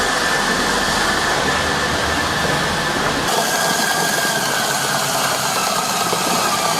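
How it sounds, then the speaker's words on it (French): A stand mixer beats sponge cake batter, a steady mechanical whir with a gritty rattle that drops to a lower speed partway through, close and continuous, with no talk over it. "je baisse un petit peu la vitesse de mon robot"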